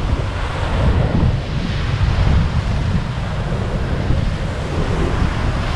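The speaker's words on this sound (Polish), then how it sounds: "ocean zburzony, aż to pryska. Jakie fale!" Rough Atlantic ocean waves crash and splash against the shore at La Mareta, Tenerife, a loud, continuous roar of surf mixed with wind buffeting the microphone, with no voices.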